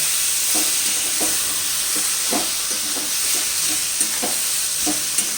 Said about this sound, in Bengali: আর ঢাকনা খুলে একবার নাড়তে হবে